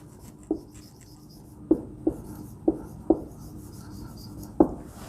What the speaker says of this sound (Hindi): मैं यहाँ लिखता जाऊँगा